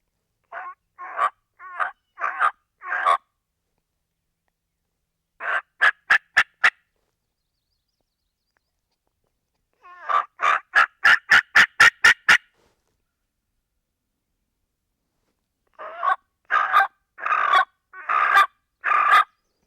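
A turkey call imitating a raspy older hen gives several rounds of raspy yelps in short, rhythmic bursts separated by pauses, one run faster and sharper than the others.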